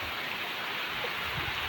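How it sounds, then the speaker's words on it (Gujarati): Heavy rain pours steadily outside during a downpour, a dense continuous hiss of drops on surfaces, fairly soft in level and with no voices. "ધમધોકાટ વરસાદ ચાલુ હોય"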